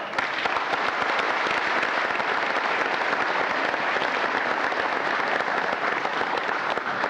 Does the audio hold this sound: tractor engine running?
no